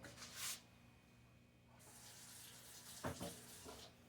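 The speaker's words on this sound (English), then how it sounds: "from your tap, just get a little drop of water" Water running briefly from a kitchen tap in bursts, soft hissing splashes that start and stop several times, quiet and close with no voices.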